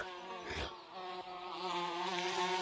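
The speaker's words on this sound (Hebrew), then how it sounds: "יש פה דבורים!" Bees buzz steadily in the Gorilla Tag video game, a sustained insect drone that swells and fades with a brief louder burst near the start and no talk over it.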